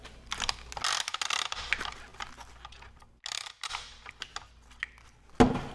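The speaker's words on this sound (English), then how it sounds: "You just flip these locks, fold this over." Locking levers flipped and legs folded on a Syrp Magic Carpet Pro slider, a series of close, quick plastic and metal clicks and clacks, with a sharp louder snap at the end.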